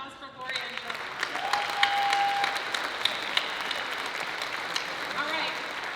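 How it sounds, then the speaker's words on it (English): A gala audience at a public policy awards dinner breaks into steady, moderately loud applause, with cheering voices mixed into the clapping throughout. "One more round of applause for Gloria and John."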